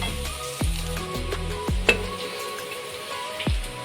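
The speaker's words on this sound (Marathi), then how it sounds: "कांदा चांगला परतून घेऊया." Onions sautéing in a pan for chole, a gentle continuous sizzle with several hard clacks of a spoon against the pan spaced irregularly, close by.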